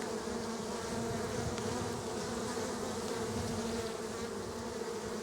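Honey bees swarm and buzz around an open beehive during an inspection, a dense continuous drone that stays close and even throughout with no voices.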